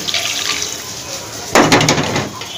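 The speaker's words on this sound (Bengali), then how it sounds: "পানি দিয়ে দিব একটু।" Water poured into a pan of radish and puti fish curry, a quiet background hiss giving way to a sudden splashing pour near the end, close by.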